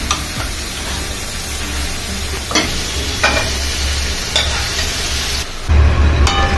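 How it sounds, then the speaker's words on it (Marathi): Mutton pieces frying in spice masala with stock and salt, a steady sizzle under intermittent scraping stirs, plus a low constant hum from a nearby stove or fan that grows louder near the end. "आता मटणचे हे पीस सोडते."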